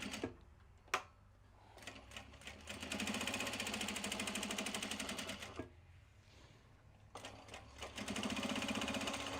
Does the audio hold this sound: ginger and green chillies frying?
no